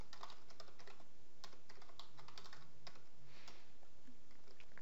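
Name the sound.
typing an email and password on a computer keyboard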